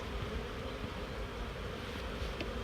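Faint, steady buzzing of bees fills the air, a continuous low drone with no voices.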